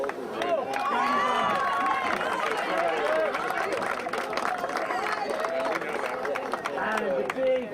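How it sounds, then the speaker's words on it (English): Crowd noise at a youth soccer state cup final presentation, with clapping and cheering mixed under loud, continuous babble of voices and a prominent announcer-style voice over the top. "the big round of applause for Timmy Phoenix the King"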